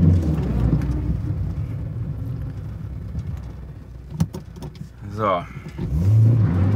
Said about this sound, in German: wir beschleunigen wieder oder versuchen auf 50 zu beschleunigen, wie immer